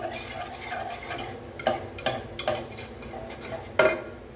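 A whisk works through thick oats halwa batter in a pan, producing a series of scraping, clicking strokes against the metal, irregular in rhythm, with a few louder knocks, close and alone.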